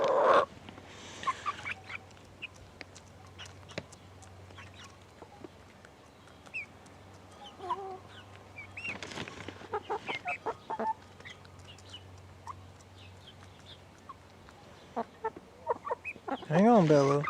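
Several chickens sitting on a person's lap cluck and squawk close by, with soft repeated clucks throughout and louder squawks at the start and end, over a low steady hum with occasional talking.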